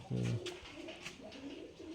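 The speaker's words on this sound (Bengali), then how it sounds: "এটা একটা নর কবুতর" A single low coo up close from a male Rajshahi Giribaz pigeon, followed by quieter murmuring coos and light background noise.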